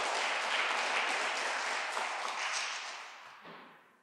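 An audience applauds a performer at an awards ceremony, a thick wash of clapping that starts full and gradually thins and fades toward the end with no voices heard.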